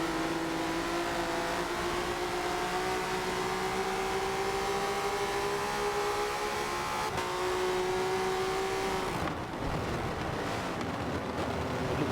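Volvo S60 STCC race cars lap Silverstone in a racing video game, a loud steady engine drone rising in pitch as they accelerate out of a corner, with a brief gear-change dip near the end.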